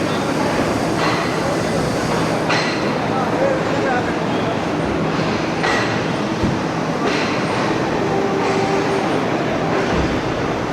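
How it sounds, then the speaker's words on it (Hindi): The Pak Business Express train leaving Lahore for Karachi in the rain, a loud continuous rumble with rhythmic wheel clatter on the rails, heard from on board with voices talking over it. "22 मिनट ताख़ीर से ट्रेन हमारी निकल रही है जी"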